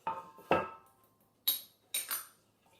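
A utensil stirs yeast into water in a bowl for baguette dough, giving four sharp clinks and scrapes spaced about half a second apart. Close and quiet, with no voices.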